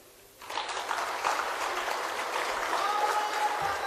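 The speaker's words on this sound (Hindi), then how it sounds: "मैं एक बार फिर आह्वान करता हूं कि आप ताली बजाइए" A crowd at a political rally applauds together, dense sustained clapping that starts abruptly and holds steady and loud for several seconds with no one speaking over it.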